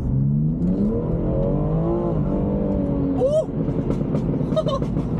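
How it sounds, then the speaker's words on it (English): A BMW turbo car engine revs and accelerates, droning steadily with a rising pitch, then drops briefly before pulling on again, loud and close, with turbo flutter. "the turbo flutters definitely sound louder now"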